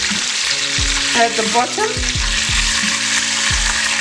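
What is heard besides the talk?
beef brisket frying in a pan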